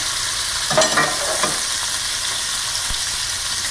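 A pan sizzles loudly and steadily on a high flame after shrimp are taken out, with a few brief scrapes near the start and a single soft knock later.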